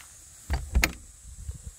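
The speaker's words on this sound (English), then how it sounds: "I'll just close that door." The door of a Long-Range V2 squaredrop off-road camper trailer swings shut with a couple of short close thuds and a latch click, followed by faint movement.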